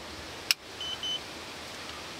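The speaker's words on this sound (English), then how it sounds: "We hear two beeps on the LevelMate controller." Two short electronic beeps from a LevelMate leveling controller in quick succession, faint over a steady background hum, preceded by a sharp click.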